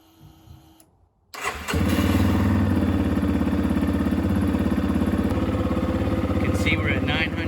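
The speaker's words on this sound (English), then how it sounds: "Now we're gonna go ahead and start the bike up, let that oil pump through, fill around the filter," A Yamaha XT250 dual-sport motorcycle cranks and fires after a short quiet moment, then settles into a loud, steady, close idle for several seconds.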